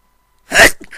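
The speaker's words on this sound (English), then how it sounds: "As I sneeze again." A single sharp sneeze bursts out of near silence, close and loud, followed by a short breathy tail.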